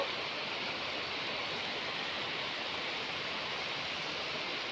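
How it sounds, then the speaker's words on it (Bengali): Heavy rain pours over open fields in a dense, even hiss that stays steady and unbroken throughout, heard from a veranda with no other sounds. "খুব জোরে বৃষ্টি হচ্ছে।"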